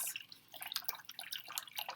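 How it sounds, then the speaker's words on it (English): A paintbrush is swished and rinsed in a water bucket, giving faint, quiet splashes and drips that come in an uneven patter, with no voice over them. "Be sure to rinse your brush well, gently sweeping across the bottom of your water bucket."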